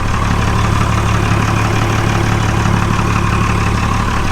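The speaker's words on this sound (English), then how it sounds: "got the engine started here" Trawler boat engine idling in the engine room, a loud, close, steady low-pitched drone that runs unbroken throughout with no talking.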